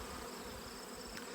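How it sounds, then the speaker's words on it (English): Honeybees from large, crowded colonies during a late-season honey pull hum in a dense, steady drone that stays close and unbroken throughout. "these colonies are full of bees, of course"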